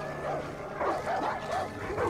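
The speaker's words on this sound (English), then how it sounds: "Where the heck are the dogs?" Dogs barking and yipping in Far Cry 5 gameplay, several quick mid-close barks in bursts, with a steady game ambience underneath.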